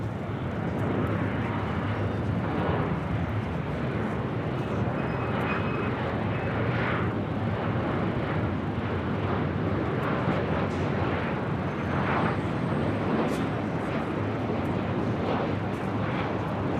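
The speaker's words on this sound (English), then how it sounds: "Next arrival here on the north side, Delta Airlines Flight 1055, coming from Minneapolis, 737" Delta Airlines Boeing 737 arriving from Minneapolis, a loud, sustained jet engine roar with whooshing surges and faint whining tones, close by and continuous with no voices.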